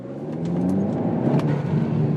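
A Hyundai's engine revs up steadily as it pulls away hard from a standstill at full throttle, a continuous mid-pitched drone building in strength, close by with no talking.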